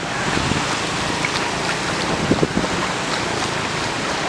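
Floodwater flows along a street corner in Camaquã during heavy rain, a steady broadband rush with wind buffeting the microphone and a few faint splashes, constant and close, with no one speaking.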